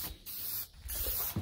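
Lacquer sprays onto a scrap-wood turned bowl in three close, hissing bursts separated by brief pauses, each blast a broad, airy rush.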